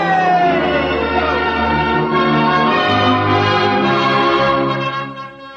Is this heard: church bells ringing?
yes